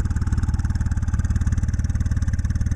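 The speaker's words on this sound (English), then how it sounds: "Yeah, there it is, just idling anyway. It's a little louder than stock." A Honda GL1500 Goldwing motorcycle with aftermarket mufflers idles close by, a steady rhythmic low burble with even pulses, a bit louder than stock, with no talking.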